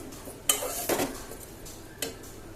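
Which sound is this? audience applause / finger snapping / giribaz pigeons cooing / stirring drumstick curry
stirring drumstick curry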